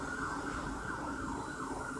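An emergency vehicle siren passes amid a dense, noisy wash, its wailing tone steady and fairly loud throughout the short stretch with no voices.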